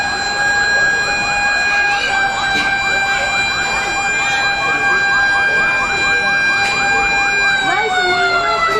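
Fire truck sirens wailing as firefighters arrive at a residential fire in Tondo, Manila, with steady rising and falling tones close by, loud and sustained under a busy street.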